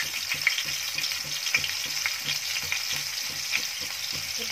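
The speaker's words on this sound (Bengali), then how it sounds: "কড়াতে একে একে মশলা দিয়ে কষাবো। প্রথমে আমি দেবো যে পেঁয়াজগুলো বেটে রেখেছিলাম সে পেঁয়াজগুলো দিয়ে দেব।" Ground onion paste and spices fry in oil in a wok with a dense, continuous sizzle, broken by soft, regular stirring scrapes close by.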